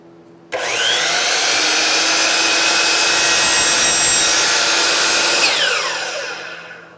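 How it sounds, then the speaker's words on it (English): A carbide-tipped power saw cuts slowly through wood while a garage is being built, a loud steady whining rasp that starts abruptly, holds for about five seconds, then tapers off as the blade spins down. "Really want to go slow with the saw."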